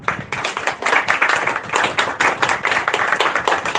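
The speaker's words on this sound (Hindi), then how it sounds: "चलो सभी पहले अपने लिए तालियां मारो।" An audience at a spiritual satsang gathering claps together, dense and loud continuous applause near at hand with no break for the whole stretch.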